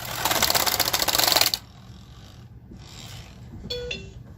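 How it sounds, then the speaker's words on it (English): A knitting machine carriage runs across the bed to knit a row: a loud, dense mechanical rattling burst for about a second and a half, then quieter clicks and a brief squeak. "We now have to knit one more stitch."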